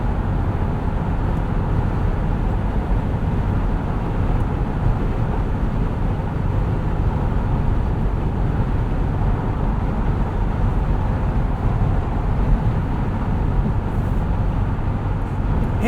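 Cabin view of a 2019 Jeep Wrangler Unlimited Sahara 4x4 with an 8-speed automatic, driving at night, with a steady engine and road rumble that stays loud and even throughout.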